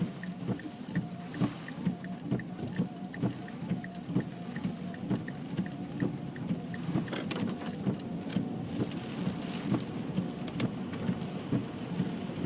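Hurricane Sandy rain drums steadily on a car during a drive, with windshield wipers thumping in a regular rhythm. The storm noise and road rumble stay constant at moderate loudness, and no voices are heard.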